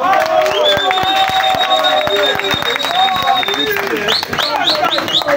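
A Gabonese crowd at a referendum rally applauds and cheers loudly and close by, with sharp claps, shrill whistle-like shouts and voices mixed into the dense, continuous noise.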